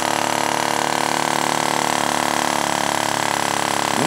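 A small hobby flame-licker vacuum engine built by a twelve-year-old runs steadily with a continuous whirring, fluttering hum, close and fairly loud, and its pitch shifts slightly near the end as the flame position changes the speed.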